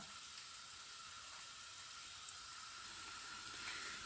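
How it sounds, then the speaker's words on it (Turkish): Sliced onions sizzling gently in a frying pan for Turkish onion eggs, a soft steady hiss with faint crackles, quiet and continuous with no voices. "soğanlarım yavaş yavaş pişmeye başladı"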